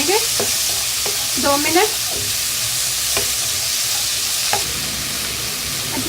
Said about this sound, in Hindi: मटर को हम अच्छे तरीके से भूनेंगे